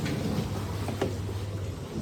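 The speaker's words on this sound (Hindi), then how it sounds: "अब और गिर रहा पानी" Water spills and splashes steadily from an overfilled container while filling a mop bucket indoors, a continuous close, rushing wash with no talking.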